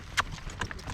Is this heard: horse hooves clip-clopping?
yes